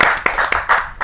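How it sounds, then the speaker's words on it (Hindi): An audience at a Hindi poetry gathering claps for a poet, with a short burst of brisk, close hand claps in an uneven rhythm. "जोरदार ताली के साथ हमें स्वागत करें"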